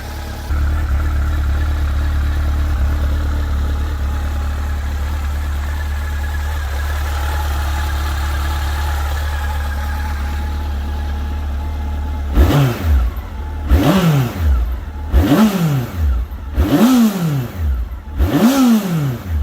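A fuel-injected Japanese big-bore motorcycle engine idles with a loud, steady burble, then is blipped five times in quick succession, each rev rising sharply and falling back.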